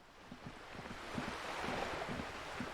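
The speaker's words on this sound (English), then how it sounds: "The sound of waves is cozy." Ocean waves washing in a continuous broad hiss with a gentle swell, heard from a moderate distance, with faint low rhythmic thumps beneath.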